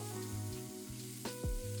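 Onions cut in half-rings fry and sizzle in a pan next to pork for a traditional Ukrainian meat dish, making a constant close crackle with a few short stirring clatters and no talk.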